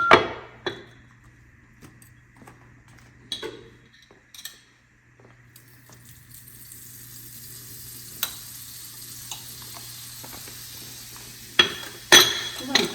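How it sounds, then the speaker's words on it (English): Butter sizzling on a hot griddle for French toast, a faint steady hiss that swells gradually, broken by a few sharp clatters of utensils and a quiet voice. "Looks like my griddle is ready and cracking. Let me butter it a little bit."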